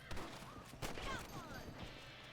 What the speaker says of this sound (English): Shooting in this game is very satisfying though.